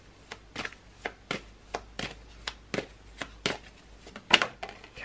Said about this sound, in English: let's shuffle for one more card.